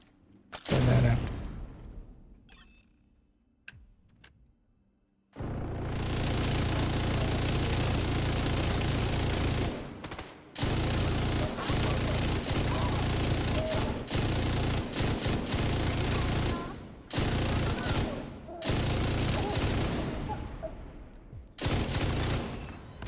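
A turret unleashes long, sustained bursts of rapid automatic fire in a video game, loud, harsh roaring volleys broken by short pauses, after an initial quieter stretch of game effects.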